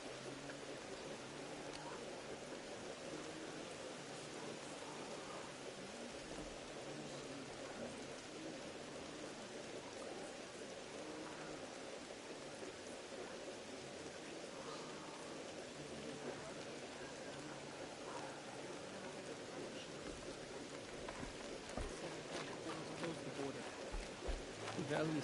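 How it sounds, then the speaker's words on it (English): Steady, quiet hiss of rain falling in the game Horizon Zero Dawn, an even wash of drops that runs throughout with slight swells toward the end. "More rain. My boots will get damp."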